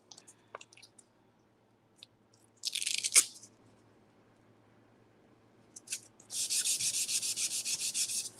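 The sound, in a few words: sanding by hand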